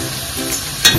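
Tomato puree sizzles and fries in a hot pan, with a brief stirring clatter near the end; close and steady, no voices.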